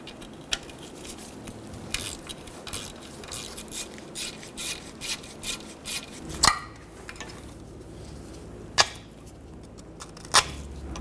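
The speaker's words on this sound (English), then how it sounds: "Just using a pick to scrape away the rust that's preventing me from getting around the bolt." Metal pick scraping rust from around an oil pan bolt on a 2010-2014 Subaru Outback 2.5L H4, short gritty scratches in an uneven rhythm, punctuated by a few sharper metallic clicks.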